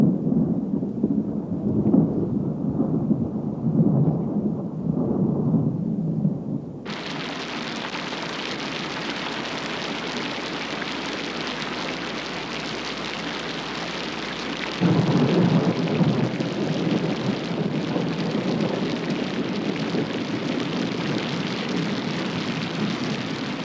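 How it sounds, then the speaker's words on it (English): Thunderstorm with heavy rain sweeping across the African plains: a low rumble of thunder, then a dense, steady roar of falling rain that swells again partway through, loud and continuous, with no voices. "But at last, one day, great clouds and shafts of cooling rain sweep across the plains."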